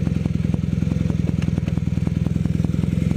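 A motorcycle engine runs at a rapid, even idle while the rider tries to find neutral, with close, steady chugging pulses and occasional light clatter.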